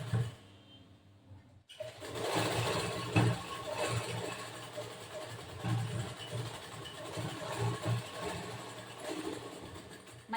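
A sewing machine stitching a boat neck blouse whirs steadily and fairly close after a quiet start, its continuous mechanical hum rising and dipping slightly as the fabric is fed.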